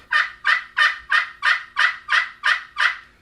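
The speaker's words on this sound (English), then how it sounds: "and then that raspy yelp" Nine raspy yelps from a slate turkey call, close and steady in rhythm, each a harsh rising-falling note, with no voices.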